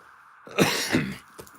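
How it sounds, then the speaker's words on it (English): A single harsh cough from sinus trouble bursts out close by, followed by a rougher second hack and a faint throat sound trailing off. "I keep coughing"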